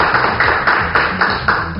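Studio audience applause on a television news set, a steady wash of clapping with faint rhythmic hand claps repeating at a regular pace, fairly loud and close, with no voices over it.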